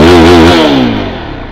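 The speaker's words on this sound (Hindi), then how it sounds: "तो रेव करके काफ़ी सही आवाज़ आ रही है" A Zontes GK350 motorcycle engine revs loud and close, holding a steady high note before the throttle drops and the engine winds down toward idle.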